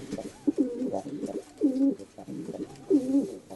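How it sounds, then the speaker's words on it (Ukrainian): Pigeons coo in repeated, rhythmic bursts from close by, several low rolling calls separated by brief pauses, with no talk over them. "Це 18-й голубок."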